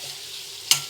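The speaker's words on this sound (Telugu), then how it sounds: "ఇది ఇట్లా బాగా కలుపుకొని అంతా కలిసేలాగా కలుపుకోవాలి." Fish curry mixture stirred in a pan, a soft steady sizzle with one sharp scrape of the spoon near the end, close and short.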